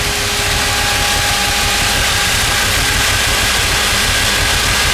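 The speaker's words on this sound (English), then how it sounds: "Engine could be idled up just a little more." A 1966 Ford Fairlane's 390 V8 idles with a steady low rumble and a constant hum, close and loud with no voices.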